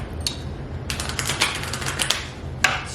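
Tarot cards being shuffled by hand, a run of quick crisp riffling clicks and flutters with a few sharper snaps, close and fairly loud, with no one talking.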